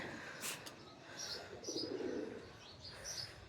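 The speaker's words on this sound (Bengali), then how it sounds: "এই যে আমাদের এটা হয়েছে ছাদের উপরে কবুতরের খামার। ভিতরে কিন্তু প্রচুর কবুতর আছে।" Pigeons in a rooftop coop coo softly a few times, with faint chirps and light bird sounds over a quiet background.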